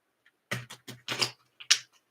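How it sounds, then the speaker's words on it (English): A handful of quick papery flicks and taps, irregular and close, as a small tarot card deck is riffled and shuffled in short bursts. "Sometimes I'm not very good at shuffling these tiny little decks"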